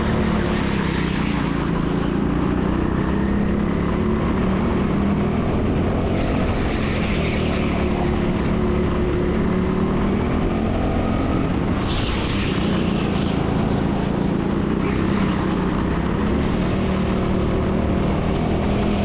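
A rental go-kart engine with a tapping fault runs continuously and loudly at close range, a buzzing, sustained drone that swells and dips as the kart moves around an indoor track.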